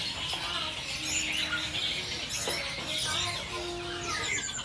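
Caged birds at a bird market stall in Pasar Pramuka, including cucak rowo-type songbirds such as kutilang sutra, chirp and twitter continuously in a dense overlapping chorus, with bright high calls over low market rumble.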